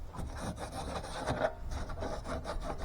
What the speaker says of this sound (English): smooth down them loose burrs